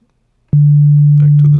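A Bazille synthesizer plays a pure sine wave tone that starts abruptly and holds steady and loud for about a second, with a voice speaking over its tail.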